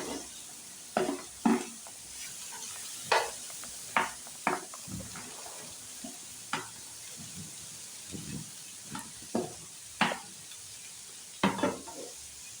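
Masala and finely cut onions cook in coconut oil in a pan, with a low hiss beneath repeated sharp scrapes and taps of a spoon stirring against the metal.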